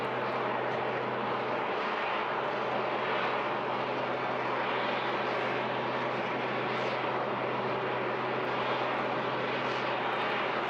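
An aerobatic aircraft with a big 8.5 litre engine performs at Bournemouth Air Festival 2024, its loud, steady engine drone and low hum holding constant and close throughout with no voices.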